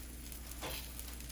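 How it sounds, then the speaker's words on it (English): An egg frying in a pan at home while breakfast is made, a soft steady sizzle with a brief louder burst of crackle midway, close and fairly quiet. "While my egg is cooking over there"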